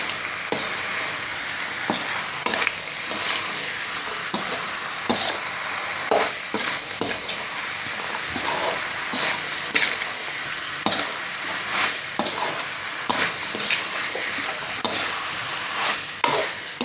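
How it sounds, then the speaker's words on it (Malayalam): A food mixture is stirred in a pan, with repeated spoon scrapes and knocks over a low sizzle, steady and close with no talking. "അതൊന്ന് നന്നായി മിക്സാക്കി കൊടുക്കുക."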